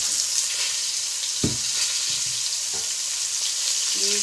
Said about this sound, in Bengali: এবার আমি পটলটা দিয়ে দিচ্ছি।